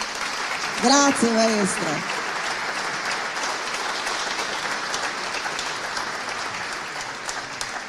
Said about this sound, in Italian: vorrei che il primo applauso fosse proprio per lui